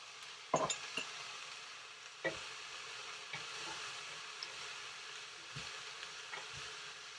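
Sweet potato soup ingredients sizzle in ghee in a pot over high heat, a faint steady frying hiss with a few soft clicks and knocks of stirring, no voices.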